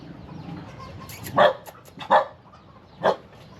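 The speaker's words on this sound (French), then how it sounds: "Les chiens vont aboyer toute la nuit." Three separate dog barks at irregular intervals, moderately distant, over a low background murmur of outdoor ambience.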